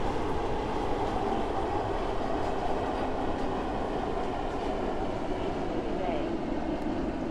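A train rumbles steadily into a station in the Roblox game SCR, a continuous low roar of wheels on track, with a faint voice audible underneath the rolling noise.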